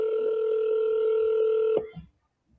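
A steady telephone tone, like a dial tone or ringing line, holds for nearly two seconds and then cuts off abruptly with a soft click, leaving near silence.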